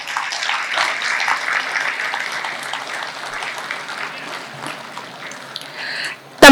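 Audience at a film first-look launch event in Tamil Nadu claps in a steady, moderately loud round of applause, tapering slightly before a sharp noise at the very end.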